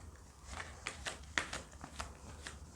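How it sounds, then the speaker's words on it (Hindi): Oracle cards are shuffled and drop loose, making a quiet run of soft, papery flicks and taps close by, with one sharper slap among them. "आपके लिए कार्ड्स गिर रहे हैं।"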